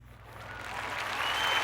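A burst of applause from a crowd, swelling in loudness over a second or two.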